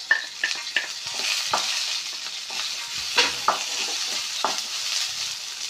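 Shallots and curry leaves stir and fry in a hot pan for a chutney, giving a steady close sizzle broken by repeated scraping and clinking strokes of a spoon against the pan.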